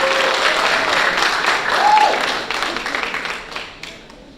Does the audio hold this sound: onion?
no